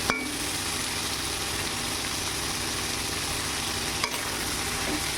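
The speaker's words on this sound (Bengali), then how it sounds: "নাড়াচাড়া করে নেব।" Boiled papaya, fried potato and shrimp stirred in a frying pan, giving a constant close sizzle with a faint low hum beneath and a couple of brief knocks.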